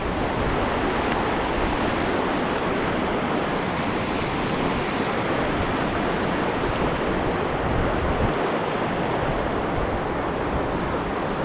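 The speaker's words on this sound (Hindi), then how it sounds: "ये पानी सारा कुनाली आबशार से आ रहा है" Stream water from the Kunali waterfall in the Neelum Valley, Kashmir, rushes in a steady, dense, loud roar that holds unbroken throughout, close by with no talk over it.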